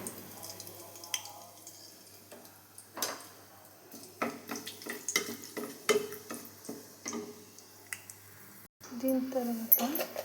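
Whole cinnamon, cloves and cardamom crackle and sizzle in hot oil in a pan for a veg biryani, with scattered ticks and pops and a few clinks from the pan, recorded close.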